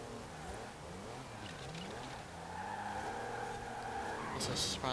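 A Lego Goliath with a diesel engine drives in Forza Horizon 4, its engine note rising and falling with tire squeal near the end, heard beneath commentary.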